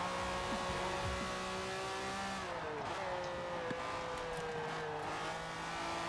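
Lamborghini Countach tuned for rear-wheel drive in the racing game Forza, its engine droning and revving through shifting pitches as it accelerates and brakes on a lap, with tire squeal, sustained and fairly close.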